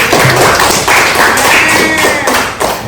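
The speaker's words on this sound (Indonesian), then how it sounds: "bagus sekali, dari tepuk tangan dulu buat Dayu." Classroom students clap for a classmate during a computer networks lesson, a dense burst of hand claps with faint voices mixed in, fading toward the end.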